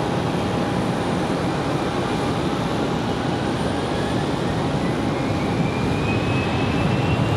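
A Delta Airbus A321 at Raleigh-Durham airport gives off a steady, broad roar with a faint whine, holding constant and fairly loud throughout with no voices.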